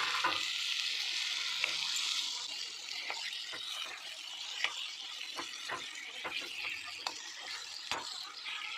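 Boiled potatoes with spices fry in a pan with a soft, steady sizzle, broken by sharp clicks and taps of stirring at irregular intervals, close and fairly quiet.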